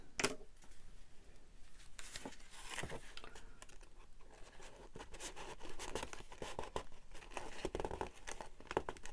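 Paper being cut down to size while assembling a handmade folded mini journal, with scattered crisp snips and rustling crinkles of paper close by, no talking.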